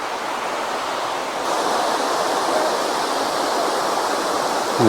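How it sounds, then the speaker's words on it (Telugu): The Ananthagiri waterfalls in the Araku valley hills rush in a continuous broadband roar, loud and close, growing slightly louder partway through, with no voices over it. "ఇవే అనంతగిరి వాటర్ ఫాల్స్"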